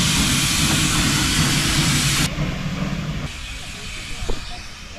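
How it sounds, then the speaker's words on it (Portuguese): A loud steam hiss from a Maria Fumaça steam locomotive blasts for about two seconds, then fades to a softer rushing noise with faint mechanical clanks nearby. "Agora o trem vai por outra via"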